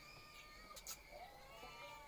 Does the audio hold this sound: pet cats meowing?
yes